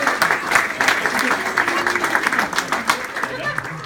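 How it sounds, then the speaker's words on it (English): A small group claps steadily for a few seconds, the applause close and moderately loud with faint murmuring underneath. "Let's clap."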